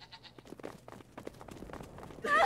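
A few short bleats from a goat amid quieter game sounds in Brothers: A Tale of Two Sons, ending with a sudden louder burst of noise.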